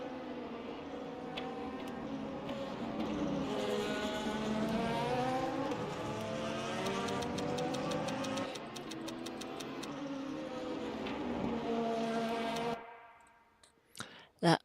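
An unrestricted LMP2 race car in the Le Mans Ultimate sim racing game, at Barcelona, holds a continuous engine drone with rising and falling pitch sweeps, then cuts off abruptly into a few sharp clicks.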